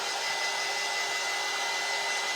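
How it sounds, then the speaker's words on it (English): A hair dryer blows steadily at close range throughout, drying a freshly finished craft piece with a constant, full airy roar and no pauses. "Here is my dryer."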